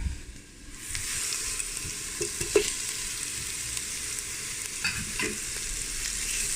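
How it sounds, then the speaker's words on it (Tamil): Spice paste for Thai tom yum fish soup fries in a pan, giving a steady, close sizzle with occasional stirring clinks and scrapes; no one speaks. "இதுக்குள்ளே போட்டு கைவிடாமல் மலர்ந்து வதக்குங்க"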